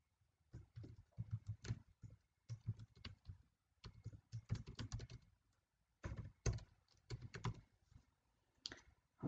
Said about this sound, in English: I'll type in some quantities, just some random numbers we'll do here for this example.